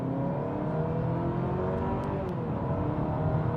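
A hybrid car accelerates at about a third of its throttle, its engine and motor note rising in a smooth, steady whir from start to finish.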